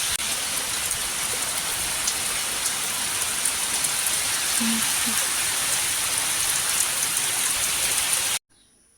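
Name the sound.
heavy rain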